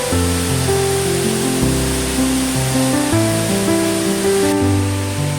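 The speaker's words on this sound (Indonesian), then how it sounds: "Airnya bening, mengalir deras" Fast-flowing clear water rushes loudly and continuously over rocks in a forest, a dense, even roar like a nearby waterfall, with tonal music layered over it.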